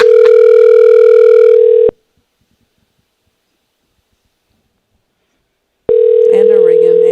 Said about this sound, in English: I hear that phone a ringing.